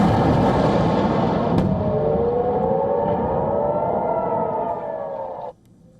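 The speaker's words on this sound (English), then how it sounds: "footage showed a blast on the ground along with echoing sirens" Air raid sirens in northern Israel sound loud and continuous, echoing with wavering rising and falling tones over a dense roar, then cut off abruptly near the end.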